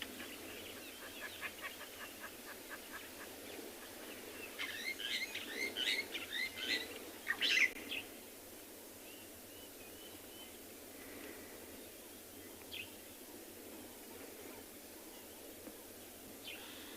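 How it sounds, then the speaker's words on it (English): Lilac-breasted roller and starlings call at sunrise on a safari, with faint, distant chattering and squeaky notes clustered early on before the scene settles into a quiet, steady background hush. "You can hear that noise. That's a lilac breasted roller. And also the starlings."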